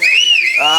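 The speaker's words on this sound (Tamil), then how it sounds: "ஆடி ஆடி விசில் பறக்கணும் போறோம் விசிலடி" A loud, sustained whistle blown during a Pandi Muni Samy ritual dance procession, one long shrill tone that wavers in pitch, with a voice coming in near the end.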